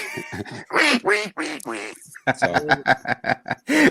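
A man imitates a duck with his voice, producing a rapid series of nasal, quacking bursts, close and loud, in a choppy rhythm.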